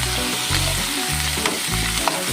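Ginger pieces sizzle and fry steadily in a hot pan with oil during cooking of sweet and sour escabeche tilapia, with occasional stirring clinks over a continuous crackling hiss.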